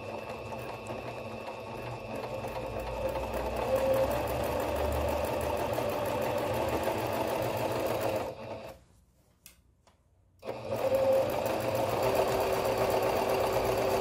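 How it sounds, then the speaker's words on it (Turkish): A sewing machine stitches fabric for a stroller cover with a loud, steady, rapid mechanical whirr up close. It stops briefly for about two seconds and then resumes at the same pace. "makinamızın dikiş yerine kumaşımızı yerleştirdik ve dikme işlemine başlıyoruz"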